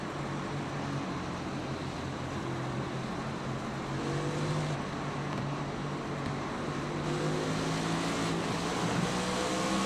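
Onboard audio from the number 20 race car at Daytona, a steady, loud engine drone with shifting harmonic tones and no breaks, heard alone without talk.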